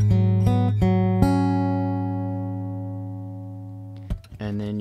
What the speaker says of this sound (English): you're going to pick this chord out